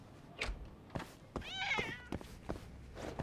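Cats meow in the video game Judgment: several short, close mews spaced through the clip, one longer wavering meow in the middle, with faint soft thumps between them.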